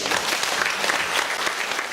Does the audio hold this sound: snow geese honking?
no